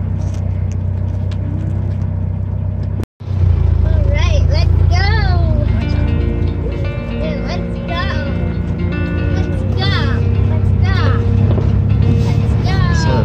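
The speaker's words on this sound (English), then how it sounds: "So the trailer's tracking well behind us." A pickup truck tows a trailer along the road toward Logandale Trails, a steady close engine and road rumble running throughout, briefly cut out near the start, with people talking over it.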